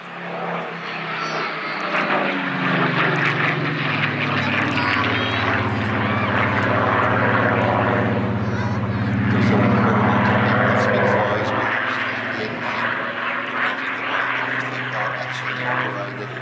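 At an airshow, an aerobatic propeller aircraft roars overhead, loud and sustained with a droning engine tone that rises and falls as it passes, while a commentator speaks over the public address.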